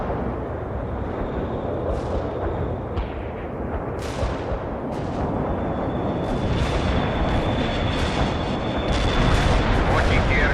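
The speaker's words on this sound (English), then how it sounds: "Anti-tank strike is inbound." Anti-tank strike explosions in the war game World in Conflict: dense, continuous rumbling booms and blasts layered over each other, with sharper cracks breaking through now and then, loud and sustained throughout.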